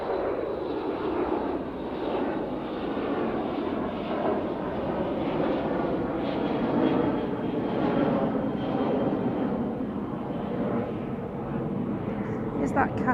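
Steady engine roar of an airliner climbing out after takeoff from Manchester Airport, heard from a distance as a continuous rumbling drone with a voice faintly in the background.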